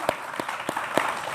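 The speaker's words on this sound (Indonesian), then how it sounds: "Tepuk tangan" A studio audience at an Indonesian health talk show gives brief, sparse applause: four or five separate, fairly soft claps spaced across a second and a half.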